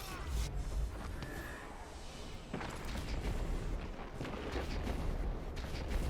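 Auto shotgun fire in Destiny 2, trying out the Dust Rock and Badlander, comes as a string of dense gunshot booms over busy game noise, with low rumble throughout and bursts around the middle and end.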